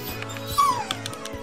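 A pet dog named Sophie whimpers nearby indoors, giving a short, high, wavering whine over a steady low background hum with faint clicks.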